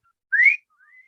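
A person whistles one short, rising clear note, then after a brief pause a softer, longer sustained tone, close and alone.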